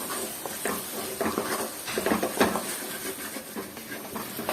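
Onions with Kashmiri chilli powder sautéing in a pan, giving a steady sizzle and hiss broken by soft stirring scrapes and patters, close and moderately loud, with no voices.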